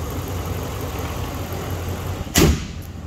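The 2012 Dodge Ram pickup's V8 Hemi runs at a steady, low idle. A brief louder thump breaks in near the end, and there is no talking over it.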